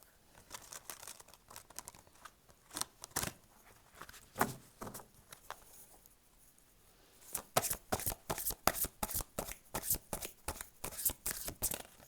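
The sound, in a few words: shuffling twin flames tarot cards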